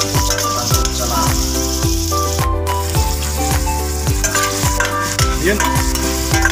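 White onion sizzles steadily in a hot pan while being sautéed for native chicken tinola, and a utensil scrapes and stirs against the pan at a regular rhythm.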